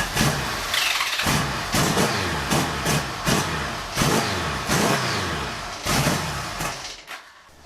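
Cheap used motorcycle engine starting on spark and catching, then revved in repeated sharp bursts that rise and fall, loud and close, before dying away at the end.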